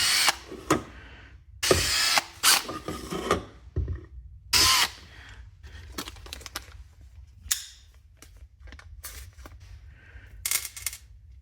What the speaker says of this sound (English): maybe I should have drilled it a little bigger